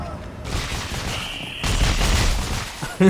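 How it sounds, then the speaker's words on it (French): A rapid three- to four-round burst from a weapon in the sci-fi shooter Dead Space 3 during co-op play, loud and dense over game ambience, ending in a sharp final hit. "Ah, c'est une rafale de 3 coups."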